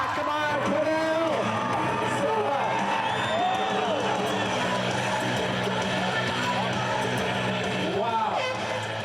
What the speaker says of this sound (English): Come on, everybody cheer